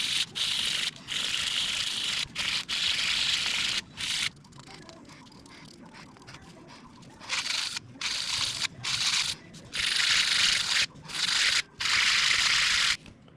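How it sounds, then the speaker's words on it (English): Sandpaper rubs on the tail gussets of a DR-107 RC plane in bursts of rapid scratchy strokes, separated by short pauses and a quieter stretch in the middle, close and fairly loud. "Let me sand it and see how it's going to work."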